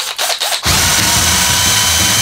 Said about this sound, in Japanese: ドリル行きたいと思います